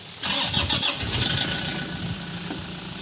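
A Toyota Hi-Ace engine cranks and catches abruptly, then settles into a steady idle, heard close up during work on its clutch master assembly.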